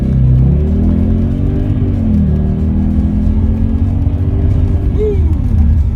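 An Audi RS6 engine revs hard and close, a loud, continuous roar that rises and falls in pitch over several seconds, with a sharp upward rev near the end.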